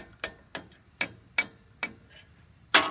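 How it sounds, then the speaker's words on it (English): A hammer taps a greasy pin out of a skid steer hydraulic cylinder, six sharp metallic strikes spaced at a steady rhythm, close and clear, the last blow the loudest. "As you can see, we started to tap this pin out already."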